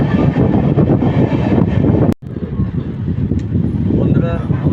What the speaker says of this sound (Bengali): পাশ দিয়ে যাচ্ছে ব্লু লাইন মেট্রো দক্ষিণেশ্বর থেকে কবি সুভাষ